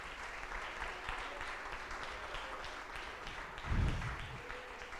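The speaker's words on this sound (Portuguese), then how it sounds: "Você pode aplaudir Jesus?" Church audience applauding in a continuous, fairly quiet wash of clapping, with a brief low thump near the end.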